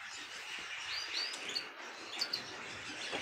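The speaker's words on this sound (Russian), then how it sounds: "Вот так вот он живет у меня, попугай." A pet parrot in its cage with a feeder gives a few thin, high chirps and short tweets, fairly soft against a steady background hiss, with no one talking.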